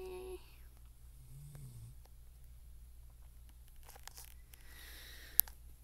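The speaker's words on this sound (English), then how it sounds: "The dog is snoring." A dog snores softly and steadily, a faint low rumble of slow breathing that runs throughout, with a single sharp click near the end.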